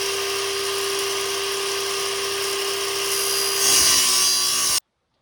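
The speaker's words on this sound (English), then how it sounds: "So get the circular saw fired up in a minute." A circular saw cuts kitchen trim in a house kitchen being fitted, a loud steady whine that runs for several seconds, rises slightly as the blade bites near the end, then stops abruptly.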